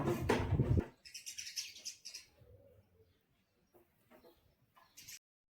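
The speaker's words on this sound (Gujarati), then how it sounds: "ચકલિયું કલબલ કલબલ કરવા મળ્યું છે" Sparrows chirp in brief bursts, a busy twittering cluster at first, then scattered faint tweets with a short rustle near the end.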